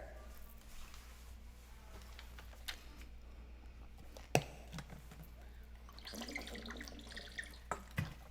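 Water runs from a tap into a sink, a faint, steady trickle with a few soft clinks and splashes, no voices.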